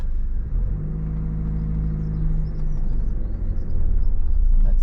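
A car in a driving lesson speeds up, its steady engine rumble and whir rising with a revving hum heard from inside the cabin, a near continuous drone without speech.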